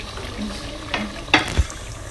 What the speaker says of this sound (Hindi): 3 गिलास के करीब हमने पानी ऐड किया है 1 किलो चिकन में